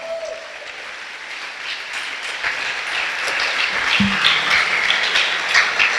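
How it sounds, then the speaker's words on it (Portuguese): Broad, steady applause from a church congregation fills the space, swelling slightly toward the end. "vamos aplaudir ao Senhor Jesus."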